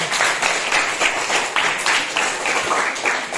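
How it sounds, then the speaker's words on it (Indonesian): Classmates applaud Catherine in a school classroom: a steady wash of many hands clapping, rising and falling in loose bursts for a few seconds, fairly close and loud. "tepuk tangan untuk Catherine"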